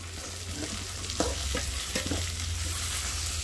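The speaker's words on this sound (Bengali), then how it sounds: "পরিমাণ মতন হলুদ দিচ্ছে, ভালো করে নাড়াচাড়া দিয়ে নেবে।" Jackfruit frying in oil with turmeric in a wok, stirred with a steady sizzle and a few distinct scraping strokes near the middle, continuous and fairly loud, with no voices.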